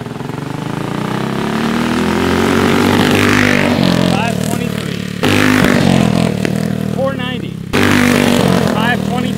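Several Predator 212cc small engines race flat out, loud and close, their high buzzing tones climbing with revs and rattling, with abrupt cuts between runs and people shouting faintly under the engine noise.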